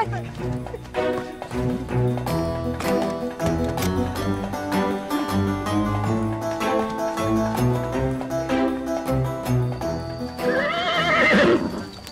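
A horse whinnies near the end of a scene from an Indonesian animated telling of Ali Baba and the forty thieves, a loud rising neigh over busy music and sound effects.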